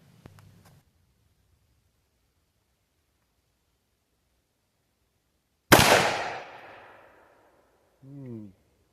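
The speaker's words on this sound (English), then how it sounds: "Let's try 110 grain soft point 30 carbine," A single loud gunshot from a 30 carbine firing a 110 grain soft point round at body armor, a sharp crack with a long fading tail, followed by a short vocal sound.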